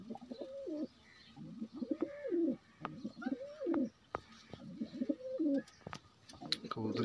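Pigeons coo in a rhythmic series of soft, throaty calls, repeated several times close by, with occasional light clicks and rustles from a bird loft.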